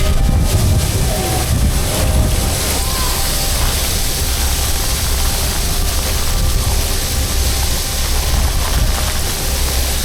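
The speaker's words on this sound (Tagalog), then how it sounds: "Grabe yung hangin, umahampas." Strong typhoon wind gusts during a monsoon flood in Tanza, Navotas, a steady loud roar with buffeting across the microphone that continues throughout, with no break.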